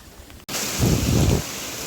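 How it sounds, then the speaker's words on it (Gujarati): Heavy rain suddenly bursts into a loud, steady downpour, with a deeper rumbling roar swelling midway and then easing back to an even rush. There is no talking. "અત્યારે ઘાટો વરસાદ ચાલુ થયો હે"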